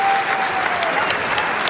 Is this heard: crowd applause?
yes